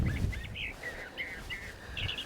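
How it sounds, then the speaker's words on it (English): Wild birds in the desert, several short chirping and warbling calls repeating in quick bursts, fairly faint against a soft low background rumble. "I'm seeing birds, not just our little roadrunner friend."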